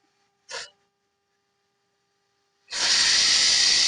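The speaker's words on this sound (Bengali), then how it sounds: "তাহলে চলুন আমরা 3টা সিটি দিয়ে নিই।" A pressure cooker whistle bursts into a loud, steady rush of hissing steam that starts abruptly and keeps going, after a brief soft puff earlier.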